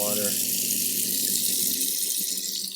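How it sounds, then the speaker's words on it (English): Water gushes from a kitchen sink faucet where a garbage disposal is being installed, a steady, loud hiss of running water that stays even and close for the whole span. "turn on the water"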